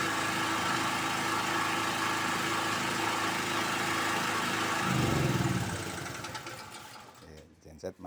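A standby genset engine on an automatic transfer switch panel drones steadily and loudly, then winds down and falls silent as it shuts off.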